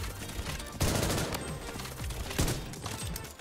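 Dense automatic gunfire in the shooter game Blood Strike, with two sharp heavy bursts standing out over a continuous rattle of shots and explosions that stays loud and close throughout.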